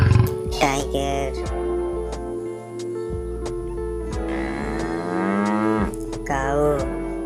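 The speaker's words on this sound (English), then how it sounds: "cow" A cow moos in long, drawn-out lowing calls, several of them, over continuous background music.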